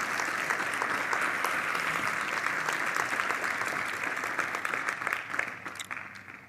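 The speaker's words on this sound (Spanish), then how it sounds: "Dele fuerte ese aplauso al Señor" A church congregation claps for the Lord in a sustained, dense round of applause that stays steady and fairly loud, then tapers off near the end.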